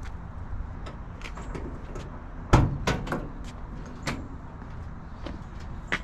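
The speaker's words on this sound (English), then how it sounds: "Open the door, check it out." A door opens on a 1966 Chevrolet C20 pickup truck under restoration, giving a sharp latch clunk midway followed by a few lighter knocks and rattles close by, with no talking.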